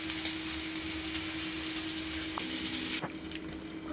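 Pieces of aloo gobi, potato and cauliflower, sizzle in hot oil with a steady, close frying hiss that continues throughout and dips slightly near the end.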